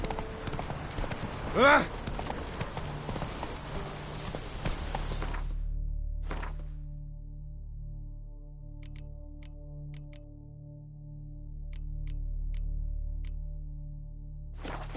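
Hoofbeats of Roach from The Witcher 3 on Death March difficulty sound briefly at the start under a shouted exclamation and busy game noise. They then give way to a steady low ambient drone with a few faint ticks.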